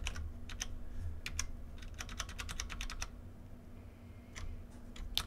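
Keystrokes on a V80 mechanical keyboard fitted with Cherry MX Clear switches, a run of crisp close clicks in quick bursts with short pauses, over a low steady room hum.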